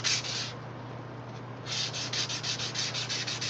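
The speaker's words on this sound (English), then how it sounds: "grits between hand sanding and a small belt sander" A small belt sander grinds steadily against a workpiece in a forge shop, first a short burst, then a brief lull of softer rubbing, then a run of loud rhythmic passes with a low steady hum underneath.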